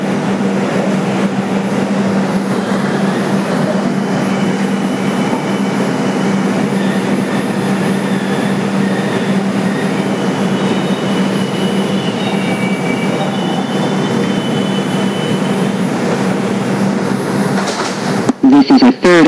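Inside a 2001 Bombardier subway car, #6676 on the 2 train along the White Plains Road line, a steady, loud rumble of wheels on track fills the whole ride, with faint squeals and a jolt near the end.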